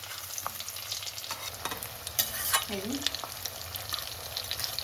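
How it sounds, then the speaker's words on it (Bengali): A cutlet sizzles steadily in oil over a low flame while it is flipped, with soft scraping stirs and faint clinks over a constant frying hiss and no speech. "এরকমভাবে আমি উল্টে পাল্টে ভেজে নিচ্ছি।"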